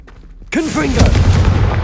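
Confringo, an explosive spell in Hogwarts Legacy, goes off as a sudden loud blast, followed by a booming, crackling rumble that trails off over about a second and a half, with a brief voiced sound at the burst.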